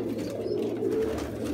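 Pigeons coo in a low, soft burbling murmur, short repeated throaty notes over a quiet steady background.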